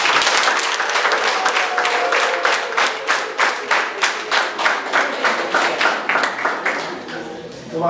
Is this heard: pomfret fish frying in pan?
no